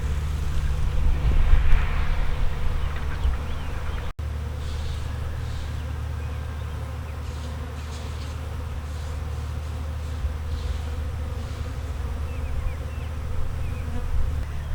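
Saskatraz honey bees buzz around backyard garden hive boxes in a steady, continuous drone, with individual bees passing close by, plus a faint low hum underneath and no talking.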